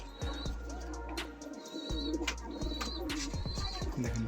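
In a loft of high-flying pigeons, an aggressive breeding bird coos repeatedly up close, its soft rolling calls recurring over a low steady background hum.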